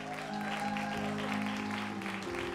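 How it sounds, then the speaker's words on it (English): A standing church congregation claps steadily and continuously at a Sunday service, moderately loud, over a sustained organ or keyboard chord. "while you're on your feet and clapping, let's put our hands together for Jesus"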